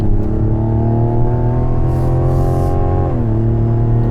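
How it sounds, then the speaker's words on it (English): A Mazda CX-90 straight-six engine pulls hard up a highway on-ramp, a loud steady rumble climbing in pitch through the gears with a brief dip at a shift near the end. "I really like the way this straight six sounds."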